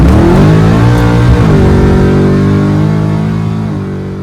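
A nitrous-fed Malibu drag car screams on a chassis dyno, its engine loud and close, revving hard with rising and shifting harmonics before easing back slightly toward the end.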